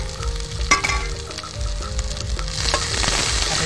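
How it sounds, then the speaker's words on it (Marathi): Stone-ground masala spices frying with sautéed onions for a rustic village-style chicken curry, a steady close sizzle with occasional stirring scrapes, growing slightly louder toward the end. "आता त्याच्यामध्ये आपण जे पाट्यावर वाटलेले मसाले होते ते टाकून घेऊ।"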